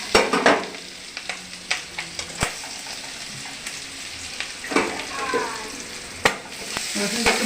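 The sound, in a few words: chopped garlic frying in butter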